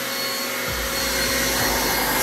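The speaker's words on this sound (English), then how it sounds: "You almost killed me with the vacuum." A vacuum cleaner runs steadily during cleanup of dust, nails and staples in a living room being remodelled, making a loud continuous droning whoosh with no talking.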